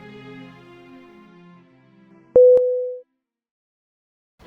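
A phone line goes dead after the other party hangs up: a couple of sharp clicks, then one steady busy-tone beep, loud and close, over soft background music that fades beforehand.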